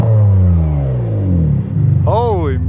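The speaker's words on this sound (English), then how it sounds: "Here, give me a little rev before you leave." Ferrari 575M with a manual V12 and Tubi exhaust, idling warm, gives a loud close rev that sweeps up and falls back toward idle, with a brief voice near the end.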